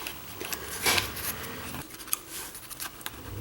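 Scissors snip paper while trimming a pattern for a hand-built Doombuggy tribute model, with several quick cuts and a sharper clip near the middle, close and fairly quiet, with no talking.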